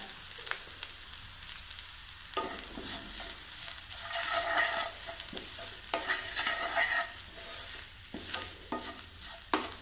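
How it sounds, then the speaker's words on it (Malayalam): Grated coconut heats in oil left over from frying fish, giving a steady close sizzle and crackle with occasional stirring scrapes in the pan; no one speaks. "മീൻ വറുത്ത എണ്ണയിലോട്ട് ഞാനൊരൽപ്പം തേങ്ങ വെതറി കൊടുക്കുകയാണ് ഒന്ന് ചൂടാക്കി എടുക്കാം"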